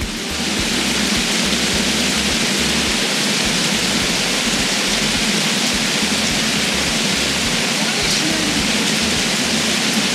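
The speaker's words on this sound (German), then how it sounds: "Regnet nur." Steady heavy rain pours down outdoors at a campsite in Sardinia, a dense, continuous hiss that holds at full strength without pause, with no other sounds standing out.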